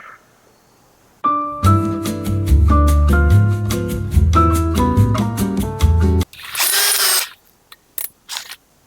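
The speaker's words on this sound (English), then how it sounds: "plenty of room in the middle to drill big holes." Power drill boring holes in half-inch wood for a budget van build, a loud steady whir with a pulsing rhythm for about five seconds, then a brief harsher burst and a few short bursts trailing off.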